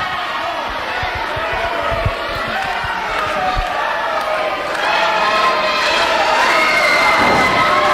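A crowd at a 2004 NWF independent wrestling show cheers and roars continuously, with dull thuds early on and the noise swelling louder toward the end.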